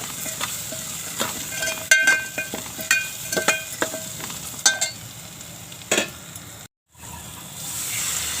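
Spices with turmeric powder and asafoetida, peanuts and potatoes sizzle steadily in a hot pan while a spoon scrapes and stirs in quick, repeated strokes, close and fairly loud, with a brief dropout near the end.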